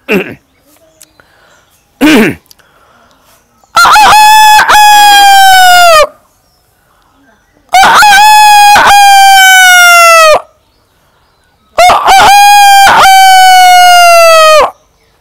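A man imitates a rooster's dawn crowing with his voice, giving three long, loud, close crows spaced a few seconds apart, after a couple of short vocal lead-ins.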